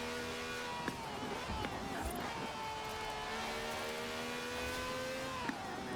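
Car engine droning steadily in Forza Horizon with a couple of gear shifts and occasional light tire noise, loud and continuous throughout.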